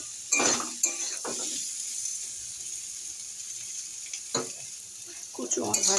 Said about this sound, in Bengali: কচুগুলো আমি একটু ভেজে নেবো আগে একে।